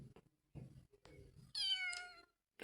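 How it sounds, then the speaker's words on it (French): A cartoon cat in the Avatar World video game gives one clear, rising meow lasting nearly a second, preceded by soft game sounds and followed by a short burst of noise. "Ah non, c'est vraiment le chat."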